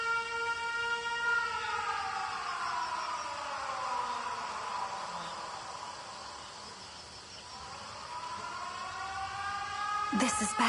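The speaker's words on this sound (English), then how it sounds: "The sirens." Air raid sirens in the video game 13 Sentinels: Aegis Rim wail in several layered tones that fall, dip and climb again over a steady background hiss, with a sharp burst near the end.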